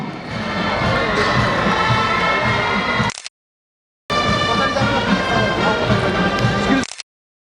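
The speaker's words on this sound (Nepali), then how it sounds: "कर्णाली प्रदेशका सबै खेलाडी महानुभावहरूलाई जोरदार तालीले यो पोखरा रङ्गशालामा स्वागत गरौँ" A large crowd in Pokhara Rangashala stadium roars and cheers for athletes at the opening ceremony of the 9th National Games, a loud, dense wash of noise in two long bursts separated by a short silence.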